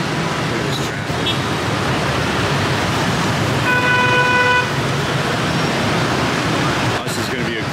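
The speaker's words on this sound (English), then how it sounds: "Look at this traffic." Rush hour street traffic in Saigon, Vietnam, a dense steady roar of motorbikes and cars with a sustained horn toot in the middle, heard up close and loud throughout.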